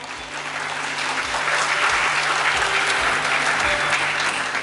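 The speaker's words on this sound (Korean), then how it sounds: "힘찬 박수로 앞으로 모시겠습니다" An outdoor rally crowd at a reunification event in front of City Hall gives loud, steady applause as a party leader is welcomed to the stage, the clapping sustained and even throughout.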